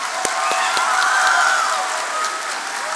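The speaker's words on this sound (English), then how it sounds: "One more big round of applause for her." A crowd at a high school commencement claps steadily, a continuous wash of applause from many people, fairly loud and even throughout with a few sharper nearby claps at the start.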